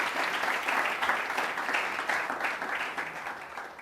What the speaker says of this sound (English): Let's have a big round of applause to welcome them both to the Town Hall.